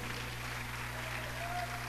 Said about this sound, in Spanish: Dele ese aplauso a Jesús.